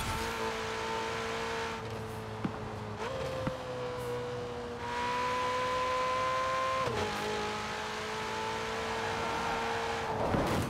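A Ferrari Portofino in Forza Horizon 4 drones along at a steady pitch for a sustained stretch, stepping up through gear shifts and easing off briefly before building again, loud and close with no voices.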